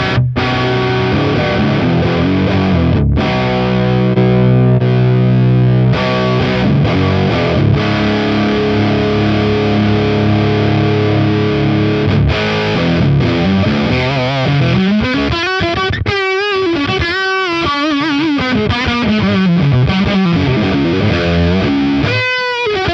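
Electric guitar played through a Mooer preamp on its second preset, giving a fuzzy, distorted tone; chords ring out and then give way to sliding, bending lead lines, loud and close with no talking.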